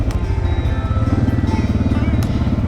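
A motorcycle riding south on the San Juan Skyway scenic byway, Colorado 145, its engine a loud, close, steady pulsing drone throughout the short stretch, with no talking.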